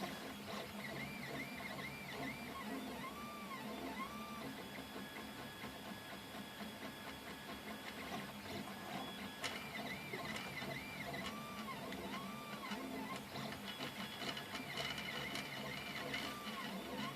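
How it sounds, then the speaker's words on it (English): A 3D printer prints on frosted glass while its Z-axis lead screws rattle, a quiet, steady mechanical whir with repeating motor tones and light clicking throughout. "if you're hearing a rattling, that's the lead screws for the Z-axis"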